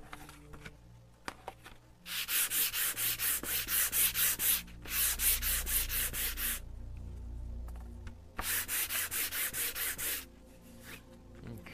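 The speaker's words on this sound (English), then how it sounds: "so just give a quick little sand on here." A quick sanding of an acrylic painting surface, heard as close, loud rhythmic scratchy strokes in two long bursts separated by a short pause, with no voices.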